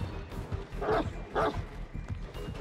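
The Houndmaster's dog in Dead by Daylight barks twice at close range, two sharp yips about half a second apart over low game ambience.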